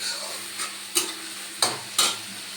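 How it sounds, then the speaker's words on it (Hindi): Onions fry with salt in a pan while being stirred, a steady soft sizzle broken by three sharp scraping strokes of the spoon against the pan, close and clear. "मैं थोड़ा सा डाल दूँगी इसमें नमक, ताकि प्याज मेरी जल्दी भुन जाएगी, लाल हो जाएगी।"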